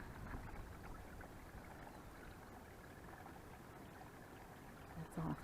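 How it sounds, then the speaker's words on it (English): Gray water drains from a holding tank with a steady, close, broadband rush that never lets up, ending with a brief heavier splash or thump. "I just need to drain the gray water."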